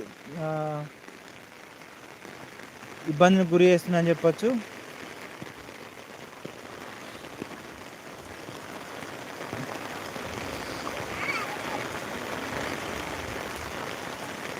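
Steady drizzle in Velichala village, a soft, even patter of raindrops continuing throughout, with someone speaking briefly near the start before the rain carries on alone.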